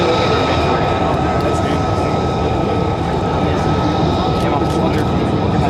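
A P-51 Mustang fighter plane roars steadily during an air show demonstration at Andrews Air Force Base, a loud continuous engine drone with crowd ambience underneath.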